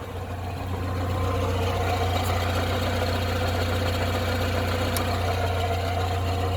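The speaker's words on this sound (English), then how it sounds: "this is the sound coming from the gearbox" Rover 45 Impression S3 with a faulty CVT gearbox, heard as a steady low drone with a mid-pitched whine running over it, constant and fairly loud, with no voices.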